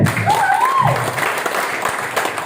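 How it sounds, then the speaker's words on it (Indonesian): An audience at a talk applauds for the BNPB disaster agency, a steady spread of clapping at moderate loudness that runs through the moment, with a brief whistle-like tone near the start. "Tepuk tangan untuk BNPB"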